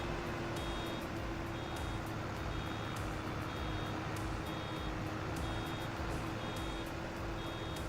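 A truck in the Farming Simulator 25 video game reverses, its sharp backup alarm beeping steadily about once a second over a loud, constant engine drone.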